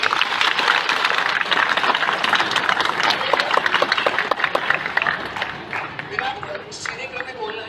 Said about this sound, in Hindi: एक बार शानदार ताली जानवी बहन की